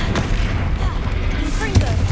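A Confringo blasting spell in Hogwarts Legacy, heard as a short booming burst near the end over a constant low rumble of game ambience.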